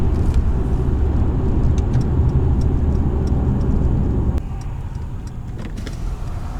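A Toyota Camry 2.5 doing a launch-control acceleration, its engine roaring loud and close for about four seconds before easing to a lower, steadier drone.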